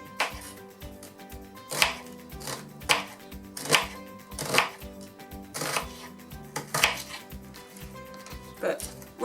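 A kitchen knife chops vegetables on a cutting board while preparing a stir fry, with a steady series of close, crisp strokes roughly every second, each a sharp tap against the board, heard alone without speech.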